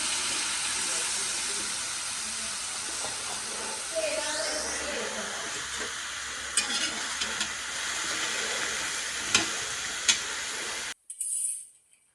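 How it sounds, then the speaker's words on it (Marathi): Peanuts in the shell are dry-roasted in a pan, giving a continuous soft hiss and rustle with occasional scraping stirs and faint clicks, before the sound suddenly cuts out near the end. "आत्ता भाजत आहे मी भुईमुगाच्या शेंगा."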